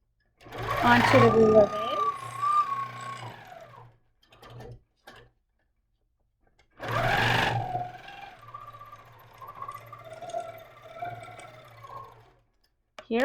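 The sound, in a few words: Handi Quilter quilting machine stitching curved crosshatch with ruler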